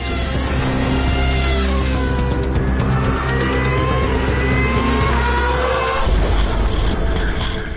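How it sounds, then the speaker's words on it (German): A 700-horsepower race car roars loudly and steadily on a racetrack, its engine note rising and shifting through gears, with a brief change in tone near the end. "Oder mit dem 700 PS Boliden auf die Rennstrecke."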